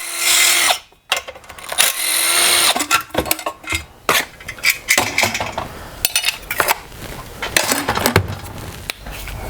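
Metal tools work on a STIHL concrete saw as its muffler is removed, giving irregular clinks, scrapes and rattles of hand tools against the saw body. The sounds are close up and come in short bursts with pauses, and no one speaks.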